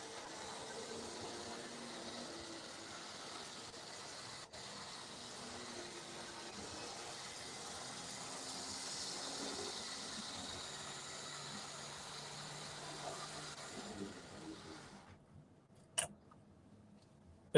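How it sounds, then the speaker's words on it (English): Model railway locomotive Prince William pulling a royal train set of coaches, a soft continuous rumble and whir of the running train lasting most of the time, fading out near the end before a couple of sharp clicks. "Prince William pulling the royal train."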